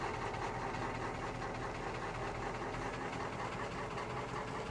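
A pickup truck engine in Farming Simulator 22 on the Elk Mountain, Wyoming map drones steadily while pulling a wagon, a continuous close rumble with no breaks or pauses.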